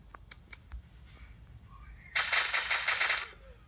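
In the mobile shooter Maskgun, a BMR and an AK5 trade gunfire: a few sharp isolated shots come first, then a dense, loud automatic burst of about a dozen rapid cracks over steady background game noise.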